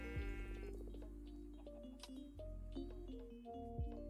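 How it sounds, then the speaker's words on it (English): Sheep in Minecraft bleating loudly over a busy soundtrack of game music, blocky tones and clicks, with several wavering bleats overlapping in the first seconds and more later. "that sheep appears to have gone a bit mad"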